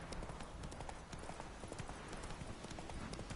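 Horse hooves clip-clop steadily in The Witcher 3: Wild Hunt, a continuous quick rhythm of hoofbeats at low level under a dense wash of game ambience, with no talk.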